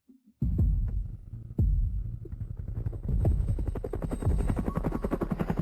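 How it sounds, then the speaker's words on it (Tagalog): A military helicopter approaching, heard as a loud, steady rhythmic rotor throb with a low hum that swells and holds close for several seconds. "sumakay pa ng military helicopter papunta sa ospital"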